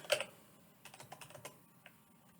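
A password is typed on a computer keyboard as a short quiet burst of close key taps, after one sharper click at the start.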